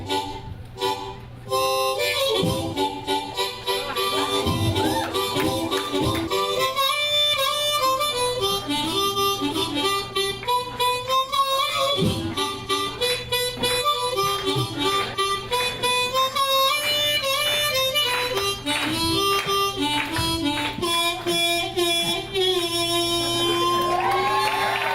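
A blues song plays as a recording, dense and continuous with sustained tones, filling the room with no talk over it.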